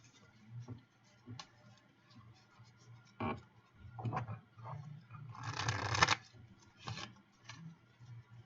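Card-shuffling sound effects from the online card game Magic: The Gathering Online: quiet, scattered riffling ticks and scrapes, building to one denser, louder shuffle burst midway, then a few lighter flicks.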